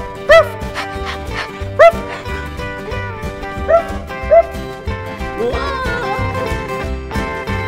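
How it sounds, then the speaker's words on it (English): Cow dogs in a cow barn letting out several sharp yips and barks at intervals, close by over steady background music and indoor ambience. "this is where cow dogs stay."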